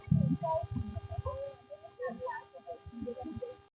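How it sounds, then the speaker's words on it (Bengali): Crickets in an old pine forest keep up a steady, continuous drone that runs through the whole clip beneath nearby talking. "কত ঝিঝি পোকা ডাকছে। এত ঝিঝি পোকা ডাকছে,"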